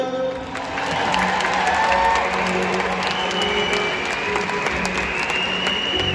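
An audience claps at a live Punjabi music show. The applause is dense and sustained throughout, with some cheering mixed into the crowd noise.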